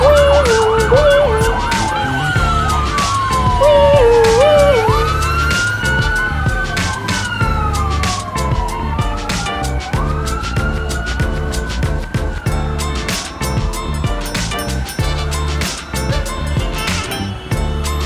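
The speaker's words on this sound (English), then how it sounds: "Fire trucks rush in when there's a fire to help put it out. They even have a loud siren." Fire truck siren wails loudly and close, rising and falling in sweeping tones with a brief high-low yelp early on, sustained throughout over rumbling traffic, with no voices.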